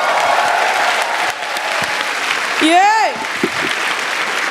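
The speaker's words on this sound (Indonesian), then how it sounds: "Tepuk tangan buat Ridwan Remi." A crowd claps steadily for Ridwan Remi, a dense, fairly loud wash of applause lasting throughout, with a voice calling out a short cheer partway through.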